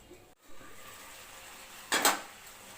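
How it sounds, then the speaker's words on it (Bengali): A lid is set onto a pot of knol khol curry with a single bright metallic clatter near the end, after a quiet stretch of faint kitchen noise. "এবার আমি এটা ঢাকা দিয়ে দেবো।"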